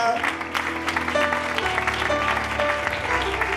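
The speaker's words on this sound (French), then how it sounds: "Tu peux aussi acclamer pour sa vie." Church congregation at a Sunday worship service applauding and cheering, a steady wash of clapping and voices with music or tones underneath throughout.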